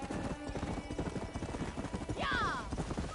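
Horse hooves clip-clop in a steady rapid rhythm in a John Marston video game, loud and close, with a brief whinny near the end and game music or sound beneath.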